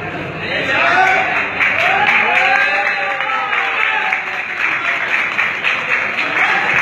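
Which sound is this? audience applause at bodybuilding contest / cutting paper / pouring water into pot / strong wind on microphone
audience applause at bodybuilding contest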